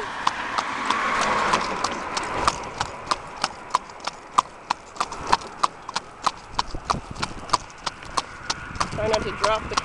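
Steady clip-clop of horse hooves on pavement, a regular rhythmic clatter close by, with some background rumble early on.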